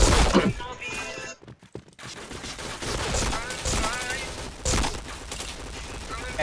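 Gunfire in the shooter game Point Blank, rapid bursts and single shots crackling over a busy game soundtrack, loud and close, with a brief near-silent gap early on.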